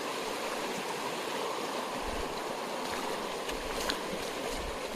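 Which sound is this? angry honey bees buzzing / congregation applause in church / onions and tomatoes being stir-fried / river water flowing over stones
river water flowing over stones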